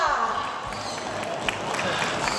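Moderate, steady clapping from a crowd at a mall launch event for decorative plant pots, greeting the event chairman, with a continuous patter of hands and a faint voice underneath.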